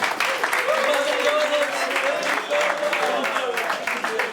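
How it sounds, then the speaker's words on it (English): Audience applause at an end-of-season university sports awards night, a steady, fairly loud wash of clapping that holds throughout with voices mixed in. "So, big round of applause."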